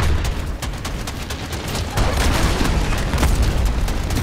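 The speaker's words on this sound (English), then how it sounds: "Enemy cruise missile." Enemy cruise missile blast in Call of Duty: Modern Warfare, a loud, sustained rumbling roar of explosions and crackling fire that swells partway through, close and dense without pauses.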